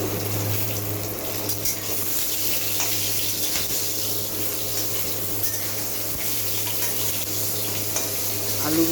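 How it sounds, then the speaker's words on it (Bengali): Potatoes fry in a pan of hot oil for a mutton curry, giving a steady, close sizzle with a faint bubbling hiss and occasional stirring clinks, alongside a constant low hum and no talking. "আলুগুলো আমি লাল হওয়া পর্যন্ত ভেজে নেব, যতক্ষণ না লাল না হবে ততক্ষণ আমি ভেজে নেব।"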